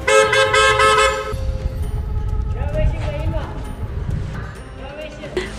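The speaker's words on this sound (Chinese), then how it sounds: "身后传来一阵急促的汽车喇叭声。" A car horn honks in a quick, urgent burst of repeated toots on an old adobe-walled street in Turpan, Xinjiang, loud and close for about a second, followed by street bustle and voices.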